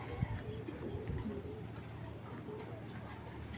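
Racer pigeons coo softly in a low, murmuring drone, faint and somewhat distant, with a quiet voice and background hum mixed in.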